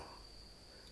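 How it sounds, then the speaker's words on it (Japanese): Suzumushi bell crickets chirping outdoors after a rainy evening, a continuous high, thin ringing trill heard faintly and steadily under low background noise. "スズムシがね鳴いてんですよ"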